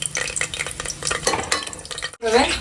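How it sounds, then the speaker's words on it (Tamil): Cinnamon, cloves, cardamom and star anise fry in hot oil with a steady crackling sizzle and bursts of stirring and pan clatter; a brief voice rises near the end. "எண்ணெய் ஊற்றி வச்சுங்க எல்லாம் பட்டை லவங்க ஏலக்காய் பூ எல்லாமே போட்டுருக்கேன்"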